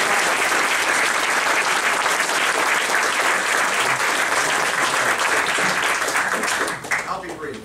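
Dense, continuous audience applause with crowd noise greets two Connecticut senators at a climate action event, loud and sustained before tapering off near the end.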